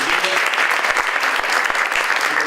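An audience at a talk-show book event claps in a dense, steady round of applause, loud and close, filling the whole moment without any voices.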